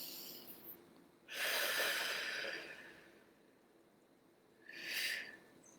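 A person exhales a deep, long breath close to the mic, a broad airy whoosh lasting over a second, followed after a pause by a second, shorter breath.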